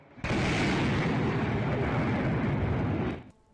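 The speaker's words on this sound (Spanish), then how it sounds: "Desde sus ventanas observan aterrorizados explosión tras explosión." Explosions from Ukrainian drone strikes on a residential area near Moscow: one loud, sustained roaring blast lasting about three seconds before cutting off, with no voices.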